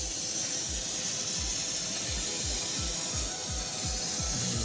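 A laser cutter cutting holes in motorcycle tank bag parts gives a steady hiss, with a rapid, regular series of short low pulses repeating about four times a second.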